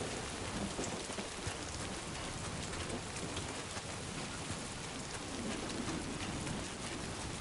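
Dense, constant downpour of rain in the video game Death Stranding 2, a steady hiss of drops with no break, loud and filling the whole scene.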